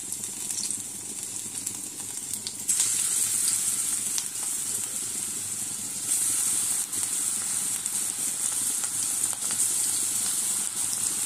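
Cabbage pakora batter fries in hot oil with a loud, continuous sizzle and hiss, steady throughout with small surges and no voices.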